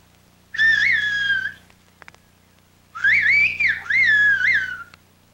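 A shepherd whistles in a whistled language: two loud, melodic phrases with sliding, wavering pitch, the first short and the second longer and split in two, separated by a near-silent pause with faint clicks.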